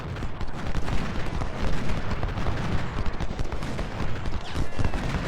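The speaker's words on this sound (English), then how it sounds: "Got some long range artillery." Long-range artillery fire during a Civil War battle at Cross Keys in Ultimate General: Civil War, booming repeatedly amid a dense, continuous din of musketry and battle noise.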